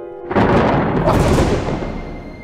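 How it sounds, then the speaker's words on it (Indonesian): A single loud thunder clap bursts in suddenly on a moonlit night, its broad rumble swelling and then slowly fading away over about two seconds, with no voices over it. "Ini terang bulan begini ngapa ada petir sih?"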